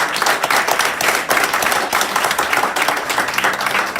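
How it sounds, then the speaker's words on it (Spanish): A church congregation applauding the Lord, loud sustained clapping from many hands that surges in waves, nearby and filling the room. "aplauda al Señor"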